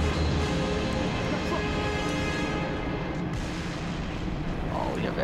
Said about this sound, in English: Grenade launcher, my dude.